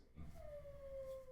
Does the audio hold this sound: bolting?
no